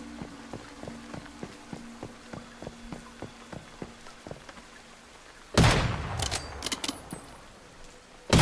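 Gunfire in the video game Once Human: a regular run of faint, evenly spaced shots, then a louder, closer burst of overlapping cracks near the end.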